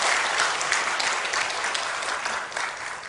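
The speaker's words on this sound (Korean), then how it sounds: "박수 한번 쳐주시고요." A church congregation at an afternoon worship service claps together in a dense, continuous round of applause that gradually thins and fades toward the end, with no talking over it.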